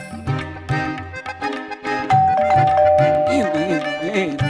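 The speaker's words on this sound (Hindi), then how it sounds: "हाँ, डोरबेल बज रही है" A doorbell rings indoors in a home, sounding as a bright electronic chime among dense musical tones and effects, with a voice briefly heard.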